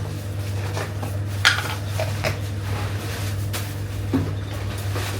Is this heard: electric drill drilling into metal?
no